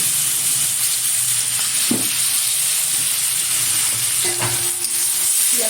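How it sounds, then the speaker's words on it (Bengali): Onion paste frying in a pan with turmeric, a dense steady sizzle and hiss broken by a few scraping stirs of the spoon, close and loud with no talk. "পেঁয়াজটা একটু হালকাভাবে ভেজে নেব।"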